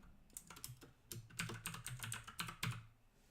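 Quick, irregular clicks of fingers typing on a computer keyboard, a soft close patter of keystrokes with brief pauses, no voices.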